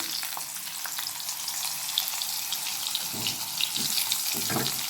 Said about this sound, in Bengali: এবার এই তেলেই আমি আলু আর মূলোটা একটু ভেজে নেব